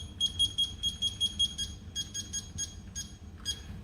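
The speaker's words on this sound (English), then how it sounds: "Timer started." Rapid high-pitched electronic beeps from a kitchen timer repeat in quick bursts, fairly close, with a faint low background hum and no talking.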